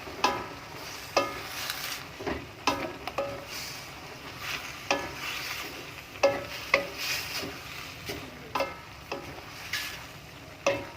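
A spatula stirs chilies and tomato through Indomie soto noodles in a pan, giving repeated scraping strokes every second or so over a soft sizzle, close and fairly quiet.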